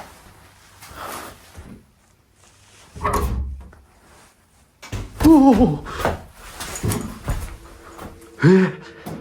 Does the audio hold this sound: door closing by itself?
yes